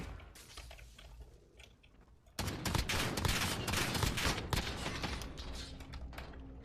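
Video game gunfire: a sudden loud burst of rapid shots breaks in partway through, after quieter rattling, then continues as dense sustained firing near the listener.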